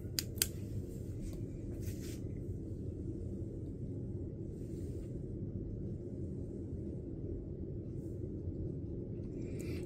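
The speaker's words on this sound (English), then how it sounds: "And then I cut them out." Scissors cut out shapes: a few crisp, close snips near the start, then quieter intermittent cuts over a steady low rumble of room noise.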